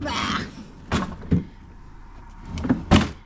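A new refrigerator's freezer door being opened in a kitchen, giving several sharp clicks and knocks with a soft rubbery seal release and rustle between them, close and fairly loud, with no one speaking.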